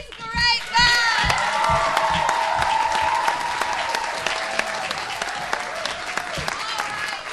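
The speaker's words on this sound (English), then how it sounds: "How about a round of applause for these great men?" A crowd at a live stage show breaks into loud, sustained applause with cheers and children's shouts mixed in, the clapping continuing steadily and easing slightly toward the end.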